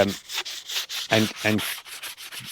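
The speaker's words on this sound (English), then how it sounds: "I'm going to go over the whole panel with this hand sanding block" Rhythmic scraping strokes of a hand sanding block rubbed back and forth across a mudguard panel under repair, close and fairly loud, about six quick passes.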